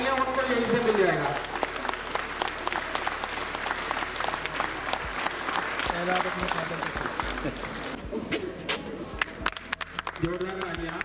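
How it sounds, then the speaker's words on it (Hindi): Schoolgirls in a girls' school hall give loud, sustained applause, a dense roar of many hands clapping nearby, while someone talks over it and a few sharper claps stand out near the end. "जोरदार तालियां"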